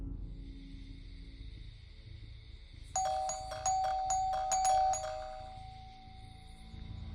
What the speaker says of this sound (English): he put his face directly to the camera and started ringing the doorbell